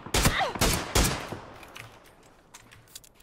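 Loud bursts of gunfire in the battle royale game PUBG: three or four sharp close shots in quick succession, then fading echoes and faint distant pops, with no talking.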